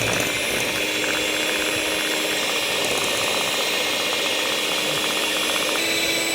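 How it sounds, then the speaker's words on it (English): Sugar being whisked into wet cake ingredients, most likely with an electric mixer, a steady loud whirring motor drone with a constant high whine that continues unbroken throughout, no voices. "we have to whisk it together"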